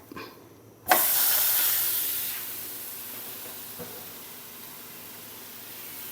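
A pork leg is pressed against a hot pot to sear. A sudden loud hiss erupts and then slowly fades into a steady sizzle, close up and with no talk.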